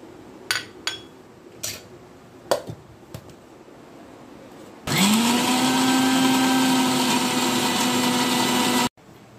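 A few clinks and knocks of a jar being set, then a kitchen mixer grinder roars loudly and steadily for about four seconds, blending coconut, cashew and green chillies into a paste, before cutting off abruptly.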